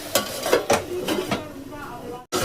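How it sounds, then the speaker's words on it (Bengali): A lid is set down on a pot of food left to boil, giving a few sharp metallic clanks and knocks that ring briefly, with a short scrape before a moment of near silence. "একটা ঢাকা দিয়ে দিলাম।"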